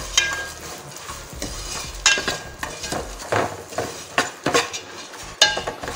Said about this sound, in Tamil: அவல் சேர்த்து நல்லா கிளறி விட்டுக்கலாம்